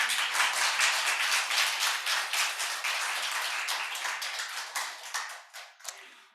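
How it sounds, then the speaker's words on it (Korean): A church congregation claps together in a brisk, even rhythm, loud at first and then thinning into a few final scattered claps before stopping. "박수 한번 올려봅시다."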